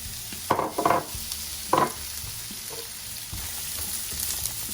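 Courgettes cooking in olive oil for ratatouille, a soft steady sizzle broken by a few short scraping stirs near the start.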